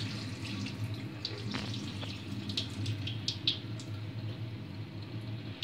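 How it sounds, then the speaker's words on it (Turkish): Water runs and splashes over fresh cow's milk cheese set to drain, a steady close trickle with soft drips and squishes throughout. "Şöyle biraz üstünü suyla süzeceğim."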